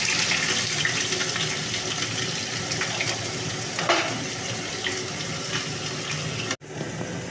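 Onions sizzling in hot oil in a wok for a Bengali dish of kalmi greens and fish roe: a steady, dense frying hiss with faint stirring clinks, continuous and fairly loud, cutting off abruptly near the end.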